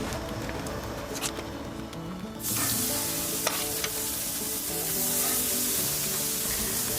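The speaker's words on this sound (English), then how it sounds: "searing over live fire is going to give you a whole lot more flavor" Food searing on the grates of a hybrid gas and charcoal grill, a loud continuous sizzle that swells into a broad hiss partway through, with faint clicks and taps, no voices.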